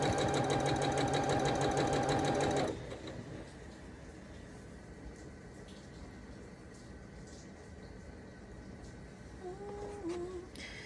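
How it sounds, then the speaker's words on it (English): A sewing machine stitches straight down the middle of a quilt block to form a quarter triangle block, running as a loud, steady mechanical whir for under three seconds before stopping abruptly, leaving quiet room noise. "we're going to sew right down the middle in the other direction to make a quarter triangle block"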